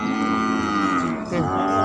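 A cow at a Thai cattle market gives a long, loud, close moo, its drawn-out tone wavering and dipping briefly before continuing to the end.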